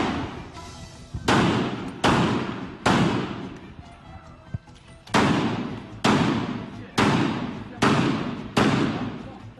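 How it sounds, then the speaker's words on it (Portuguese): Heavy gunfire booms in repeated loud blasts during a shootout between police and drug traffickers on rooftops, about ten sharp reports with echoing decay, irregularly spaced and close. "Já são mais de 10 minutos de intensa troca de tiros."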